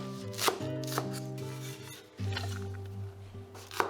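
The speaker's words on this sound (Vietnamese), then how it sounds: "Sắc nhỏ hành lá để làm dầu hành mình ăn kèm ha." A knife chops green onions for scallion oil against a cutting board in a few sharp, spaced strikes, heard up close over soft background music.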